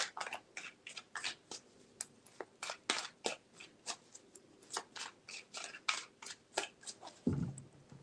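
A tarot deck is shuffled repeatedly in a fast, regular run of crisp card flicks close to the microphone, ending with a duller thump.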